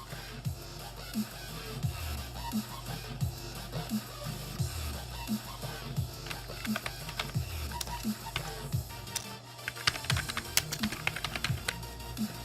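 Rapid typing on a computer keyboard while entering a room ID for a Paraguayan clan league friendly match, with steady irregular clicks running throughout at close range and no talk.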